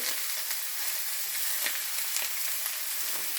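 A thick roast sears in a pan like a steak, giving a steady, close, bright sizzling hiss with faint crackles throughout.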